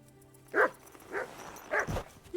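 A dog gives three short barks or yips spaced apart, moderately close, with quiet background between them.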